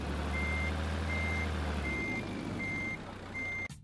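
A truck in the video game Trucks & Trailers reverses to a steady engine drone, its reversing alarm giving five evenly spaced beeps before an abrupt air-brake hiss at the end.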